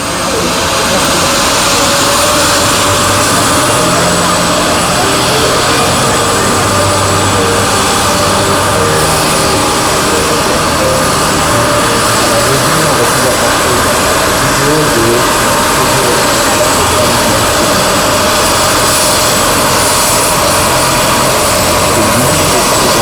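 A steady, loud aircraft engine drone continues without a break, mixed with broad roaring noise near a hot air balloon competition in Europe, with no clear voices.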